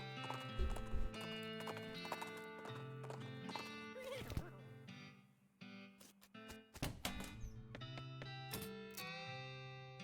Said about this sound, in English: I need to speed up the horse, too.